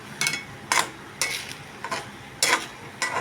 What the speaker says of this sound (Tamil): சோள மாவு கரைச்சி வச்சுதை ஊற்றுறேன்.